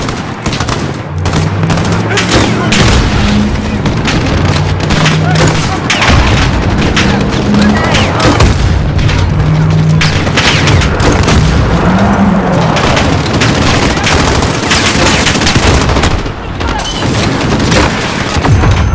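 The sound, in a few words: grenade explosion and gunfire in the video game Call of Duty: Modern Warfare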